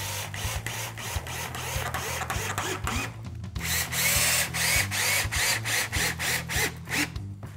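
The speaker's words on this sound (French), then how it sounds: "on prend des vis et on vient visser notre cadrage, notre soufflage dans notre cadrage un peu partout" A power drill drives screws through a door casing into the frame. Short whirring bursts come in quick rhythmic pulses, then a longer steady run. The drilling is close and loud, with light clattering between bursts.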